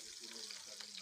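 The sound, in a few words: garlic frying in pan for chicken curry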